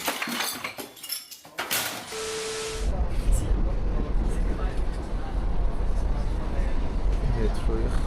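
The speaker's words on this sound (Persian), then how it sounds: "متروی خلوت ساعت 12:30 شب." Late-night London Underground train running through the tunnel, a steady loud rumble and hiss that builds after a brief squeal and continues without a break.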